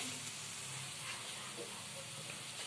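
Spices and coriander powder sizzling steadily in a pan while being sautéed for a Pakistani spicy omelette, a continuous close frying hiss with no talk.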